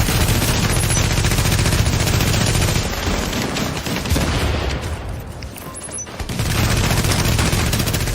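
Rapid SMG gunfire and a flame turret's roaring output in a video game skirmish, loud and continuous, easing briefly in the middle before the dense automatic fire resumes.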